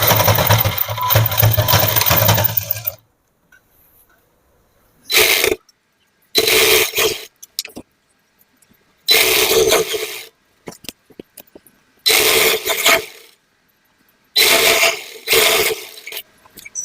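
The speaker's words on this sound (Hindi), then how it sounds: "आधा इंच रो मार्जिन छाडी की सिलाई करबा आरंभ करबी" Sewing machine stitching nighty fabric with a half-inch margin, one long run followed by several short close bursts of rapid mechanical chatter separated by quiet pauses.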